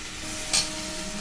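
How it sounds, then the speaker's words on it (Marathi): Eggplant pieces go into a hot frying pan for a Marathi-style eggplant curry, giving one brief, bright sizzle burst that quickly settles into a faint, steady background hiss. "आता टाकणार वांगी"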